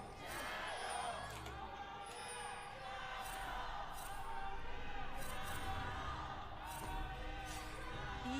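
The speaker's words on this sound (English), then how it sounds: "Let's listen to the crowd for a second or two." Arena crowd at an LPL 2025 League of Legends esports match, a steady wash of cheering and yelling that stays loud and dense throughout, with scattered whoops rising out of the roar.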